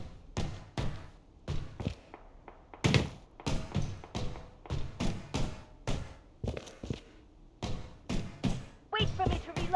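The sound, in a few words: weapon reloading in video game Blood Strike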